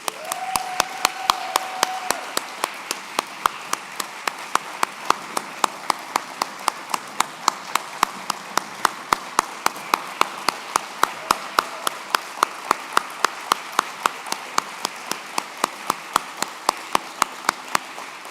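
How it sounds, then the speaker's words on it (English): Steady, evenly spaced claps from a gala audience keep a rhythmic beat throughout, crisp and moderately near, with a faint voice briefly audible early on. "So let's make this round of applause really count."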